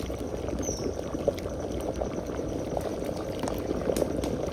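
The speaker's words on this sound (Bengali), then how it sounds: "চালটা ফুটে উঠছে" Rice cooks with turmeric in a pot for khichuri, giving a continuous bubbling, gurgling boil with faint splashes, moderately loud and close.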